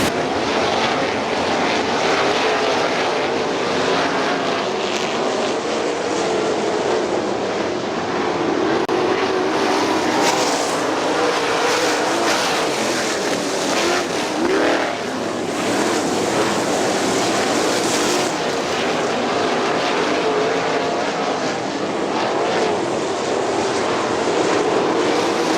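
IRA sprint cars racing at Butler Motor Speedway, with a loud, sustained engine roar that holds steady through the whole stretch and swells slightly at times, without any voices.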